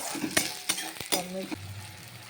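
Onions and tomato for egg tarka frying in a pan as a utensil stirs them, with several scraping clicks over a steady close sizzle.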